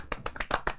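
A quick burst of hand clapping, about six or seven sharp claps in an uneven rhythm, close and fairly quiet, with no talking.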